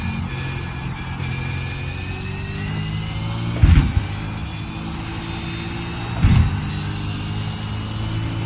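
A V8 race car engine in a video game drones steadily at high revs with whining harmonics, punctuated by two brief louder bursts, like gear shifts or bumps.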